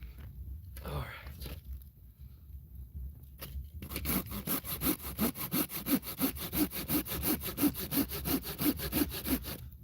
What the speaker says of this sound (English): I'm literally just out here boondocking it with a little handsaw.